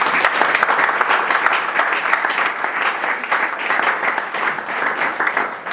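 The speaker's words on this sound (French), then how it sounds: "On acclame pour la gloire de Dieu." A church congregation applauds together in a steady, dense wash of clapping that holds at an even level throughout.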